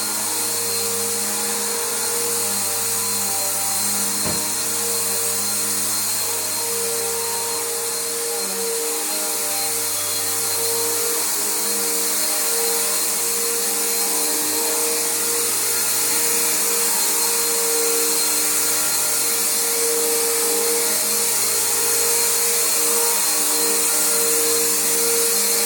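A Bissell Powerforce bagged vacuum cleaner runs steadily with a loud, constant whine and hum that barely changes for the whole stretch, with no voices.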